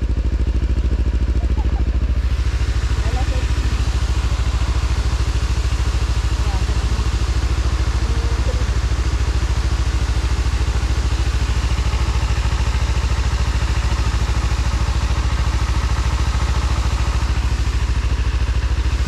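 A motorcycle engine idles steadily for the whole stretch while stopped on a bridge along the Lenggong road, a constant low rumble with light clatter and faint background noise.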